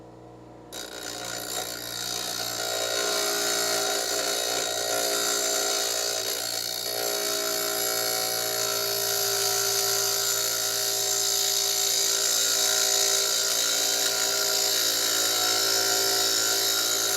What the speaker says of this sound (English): Got to grind it down on the wheel.